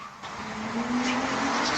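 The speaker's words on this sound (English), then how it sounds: "the sound of a screeching car speeding right into him" A speeding car's tires screech in a short, rising squeal that grows louder over about two seconds, with no other sound on top.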